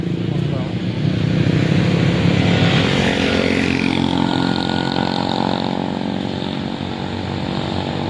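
A CFMOTO SR450 motorcycle engine is revved hard, a loud, close buzzing drone that climbs and eases in pitch over several seconds while people talk over it.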